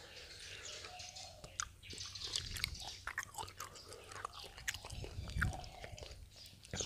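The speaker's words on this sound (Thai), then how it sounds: "พยายามจะกินให้ไม่ดังแจ๊บนั่นเนี้ยแต่มันเสียงมันเป็นอย่างเงี้ยเลยอ่ะ" Dried durian being chewed up close in an ASMR eating session, with continuous moist, crunchy bites and mastication sounds at a steady pace, loud and close-miked, with no talking.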